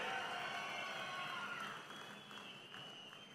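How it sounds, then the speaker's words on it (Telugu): Sustained applause from a large audience at a political rally for the Prime Minister, dense and steady at first, then easing slightly toward the end, with no speech over it. "అవును అంటే గట్టిగా చప్పట్లు కొట్టి అభినందించండి ప్రధానమంత్రి గారిని"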